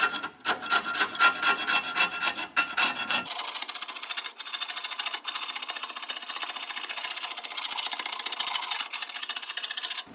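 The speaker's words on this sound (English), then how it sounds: "we're going to scrape as much of this off" A hand scraper rasps steadily across old coating on an abandoned vintage 1970s Ford, a close, continuous scratching with short pauses, alone and with no talk.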